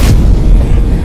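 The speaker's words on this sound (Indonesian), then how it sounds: "ketika menghantam daratan bumi kita, terdengarlah bunyi ledakan" A loud, deep explosive boom of a meteor striking the ground, a single heavy blast with a sharp onset that rumbles on for about a second.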